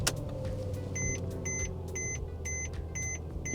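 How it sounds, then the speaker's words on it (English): A Mercedes car engine starts up, a low steady rumble settling into idle while a series of regular electronic beeps chimes from the dashboard, close and fairly quiet. "Let's see when we turn the car on."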